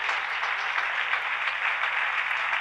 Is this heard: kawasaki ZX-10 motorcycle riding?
no